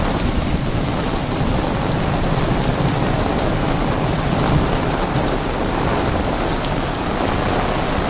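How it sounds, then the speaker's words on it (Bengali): Heavy rain pouring steadily onto a veranda and flooding it, with a dense, loud, unbroken roar of water and wind buffeting close to the microphone. "বারান্দায় পানি পরে ভেসে যাচ্ছে"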